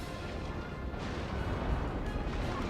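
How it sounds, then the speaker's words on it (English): A ship's cannon volley in a Napoleon: Total War naval battle rolls on as a continuous, fairly faint rumble of overlapping booms. "Nice volley there, though, into the Caesar"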